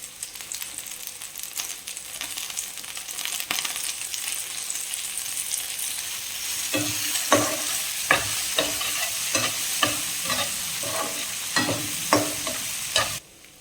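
Chopped tomato and onions fry for a spicy chili chutney, a steady sizzling hiss that grows busier with bursts of crackling and spatula scrapes, near and fairly loud, ending abruptly.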